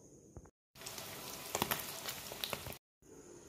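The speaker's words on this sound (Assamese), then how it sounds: "এতিয়া মই প্ৰথমতে শুকান মাছখিনি ভালদৰে ভাজি লম।" Dry fish sizzling and crackling steadily in a hot pan, a continuous close frying hiss with small pops, briefly cut by two short silent gaps.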